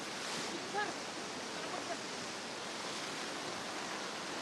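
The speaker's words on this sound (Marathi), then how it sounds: "पाण्याचा प्रवाह वाढतोय" Floodwater rushes across the Mumbai-Pune expressway near Urse during heavy rain, a steady broad roaring wash at constant level with no distinct breaks.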